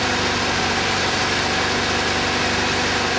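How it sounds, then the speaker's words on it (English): A loud, steady idle from a Kawasaki GPZ600R motorcycle engine running on three of its four cylinders after 18 months off the road, with an uneven, rough running rhythm, close up and continuous throughout. "Sounds like it's running on 3 cylinders"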